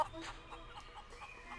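Chickens clucking in the point-and-click adventure game Curse of Monkey Island, a soft run of rhythmic clucks over a steady ambient background.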